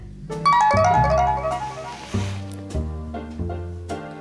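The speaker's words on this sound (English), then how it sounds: "That was my phone." Phone text message notification: a loud, bright melodic chime with several rising tones, followed by a few softer repeated tonal hits, close and clear with no talking.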